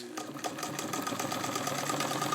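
A Singer 66 sewing machine with a crinkle finish, upgraded for heavy duty, stitches steadily through three layers of garment leather, giving a close, continuous rapid mechanical clatter.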